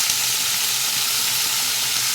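Onion paste and green chilli hit hot oil already holding whole cumin, cardamom and cinnamon, giving a loud, dense, continuous sizzle close up with no talking over it.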